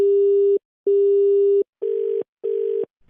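A telephone busy tone follows a call being cut: four evenly spaced beeps, the first two clean and steady, the last two rougher, loud and alone.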